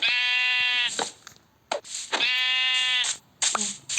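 Two long, nasal sheep bleats in a video game, in a row, loud and close, with short gaps between them and a few soft clicks, no talking.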